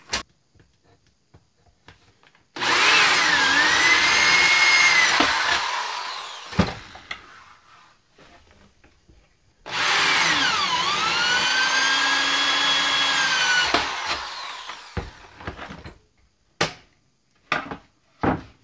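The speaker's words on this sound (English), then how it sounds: "And there's where I'll drill." Power drill run in two sustained bursts of several seconds each, whining as the speed rises and falls, with quiet clicks and taps between and after the bursts.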